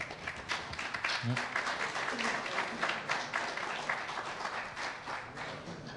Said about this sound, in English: It's taking away some good time from our speakers with the applause, so hold it down if we can.